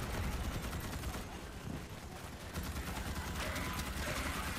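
Automatic weapon fire in Starship Troopers Extermination, a dense, loud barrage of rapid shots with battlefield clatter, continuing almost throughout with a brief dip in the middle.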